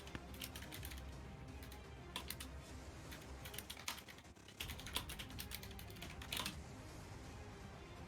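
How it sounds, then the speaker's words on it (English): Rapid, intense typing on a computer keyboard during an online tabletop role-playing game session, with faint, quick clattering bursts of keystrokes and short pauses, no one talking. "I hear intense typing."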